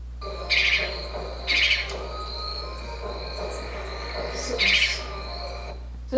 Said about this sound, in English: So this is of the spotted owlet,